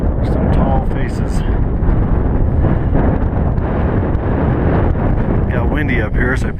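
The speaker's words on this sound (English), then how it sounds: "Got windy up here" Strong wind buffets the microphone high on the trail up Mt Whitney, a loud continuous low roar of gusts with occasional brief higher rustles near the end.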